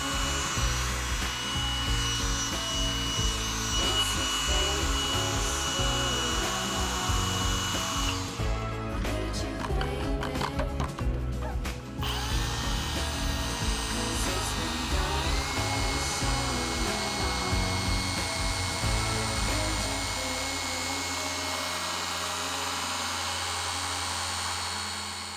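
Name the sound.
Shine Mate EB210 mini polisher running at top speed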